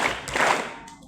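A live audience at a humorous Islamic sermon claps twice together on cue, a short burst of hand claps that rises and fades within about a second.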